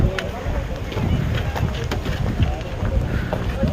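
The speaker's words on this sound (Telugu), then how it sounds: "ఇక్కడ చల్లగా గాలి వస్తుంది." Cold wind sweeping across the Kailasagiri hilltop viewpoint in Visakhapatnam, a loud steady rush buffeting the microphone throughout.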